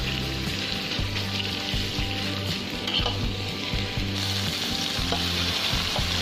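Beef stir-fries in pounded curry paste in a pan for a Thai beef and pickled bamboo shoot curry, giving a loud, steady sizzle with rhythmic scraping and stirring close by, and no voices.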